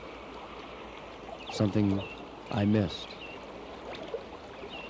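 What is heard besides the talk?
rushing water of a stream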